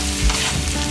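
Meat coated in dry rub frying with onions, garlic and ginger in a Sri Lankan home kitchen: a dense, steady sizzle with soft low thumps of stirring, close and fairly loud, no talk.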